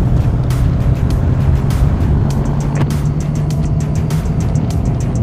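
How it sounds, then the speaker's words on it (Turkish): Harley-Davidson motorcycle engines roar inside a tunnel, a loud, steady low rumble lasting throughout with no talk. "Bu da Harley Davidson."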